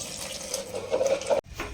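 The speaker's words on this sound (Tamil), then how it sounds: "தண்ணி சேர்த்துக்கலாங்க" Water poured into a pressure cooker holding cut, washed potatoes, a steady close splashing stream that builds for over a second and then stops abruptly, followed by faint room sound.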